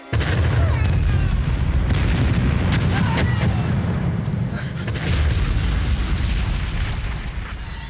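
A war film battle scene with a continuous, loud, rumbling wall of explosions and artillery-like blasts, with crackling bursts layered on top, dense and unbroken throughout.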